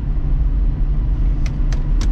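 A turbocharged VR6 engine in a wagon drones steadily with a deep, constant rumble, close and loud, while brief higher chirps cut in near the end.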